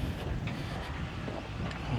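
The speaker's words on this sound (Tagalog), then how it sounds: "Mahangin dito guys." Steady wind buffets the microphone with a low, continuous rumbling roar and no other sounds, outdoors on a land lot in Barangay Malabag, Tagaytay, Philippines.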